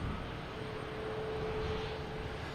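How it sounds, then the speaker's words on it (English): A JetBlue Airbus A321neo arriving from London Heathrow at Boston Logan Airport, its engines a steady, moderately loud broadband roar with a faint whine, heard alone. "next to arrive, we have a JetBlue coming from London Heathrow"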